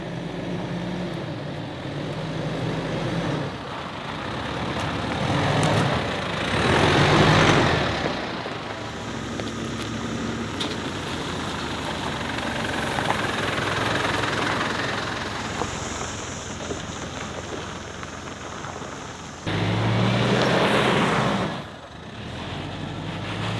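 Car driving over a rough, heavy dirt track on the way up to a hilltop camping spot at Bukit Cemara in Bali, with a steady engine rumble and louder surges of road and tire noise around the middle and near the end.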